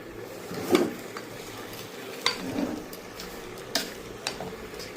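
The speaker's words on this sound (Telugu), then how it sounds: "ఒకసారి కలుపుకుందాం మొత్తం" A spoon stirs prasadam mixture in a pot, making intermittent close metallic clinks and scrapes at an uneven rhythm over a quiet background.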